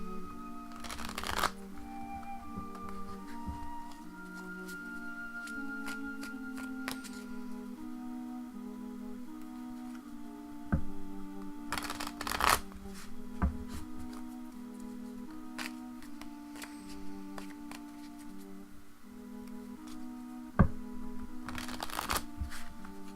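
Watercolor tarot deck being shuffled by hand, soft riffling card bursts recurring every few seconds over a quiet musical background, close and gentle.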